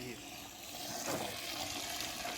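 Water gushing hard from a borewell in Koregaon, Satara, a steady close-up broadband rush of spray and splashing that holds at an even loudness throughout.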